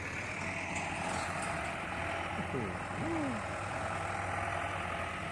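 A heavy Fuso dump truck engine drones steadily at a distance as it climbs out of a dirt pit, under broad background noise, with a brief whistling squeal in the middle.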